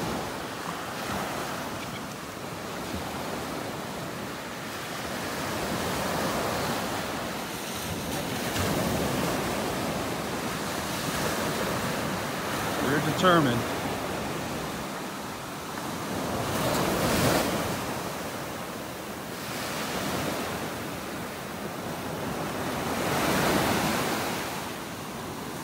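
Ocean waves break and wash up on a beach in North Naples, Florida, in slow rolling surges of surf under steady wind noise, with one brief spoken remark partway through.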